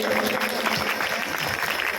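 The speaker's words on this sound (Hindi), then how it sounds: "जोरदार तालियां।" Audience applause at a Hindu religious discourse gathering, a dense, steady wash of many hands clapping that fills the short moment at even loudness without a break.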